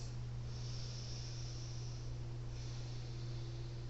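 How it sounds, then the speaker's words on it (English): Slow, deep breathing during a yoga exercise, a soft steady airy hiss close to the microphone over a constant low hum, with no talking. "Taking deep breaths."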